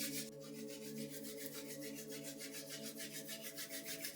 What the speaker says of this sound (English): Rubbing hands together.